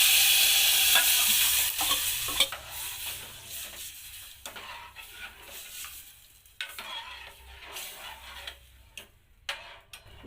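Thick dal tipped into a hot pan of spices, ground masala paste, turmeric and red chilli for Maharashtrian katachi amti, with a bright sizzle that fades into irregular scraping stirs and clicks, close up and without talk.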